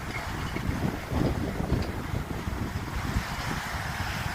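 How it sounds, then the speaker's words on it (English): Strong beach wind at Fort Lauderdale buffets the microphone in uneven gusts, a rough roaring rumble that fills the whole clip. "It's windy."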